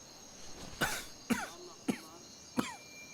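Four sharp, heavy coughs from a man with phlegm from smoking, spaced evenly about half a second apart, close and loud with quiet between them.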